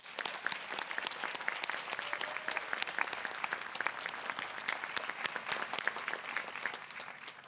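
Graduating alumni at a Pacific University commencement receive applause, a crisp, moderately sized round of individual claps that patters steadily and tapers slightly at the end.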